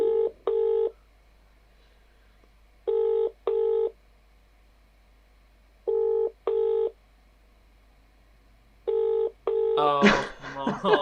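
A telephone is dialled in a game-show studio, with four pairs of short, evenly spaced beeping tones separated by silence, followed by a burst of louder mixed sound at the end.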